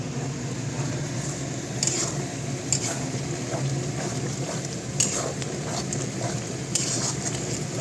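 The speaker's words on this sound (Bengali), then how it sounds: "চিকেন কষানো স্টার্ট হয়ে গেছে" Chicken being stir-fried in a pan for fried rice, a steady close sizzle with a few sharp clinks and scrapes of a spatula stirring at intervals.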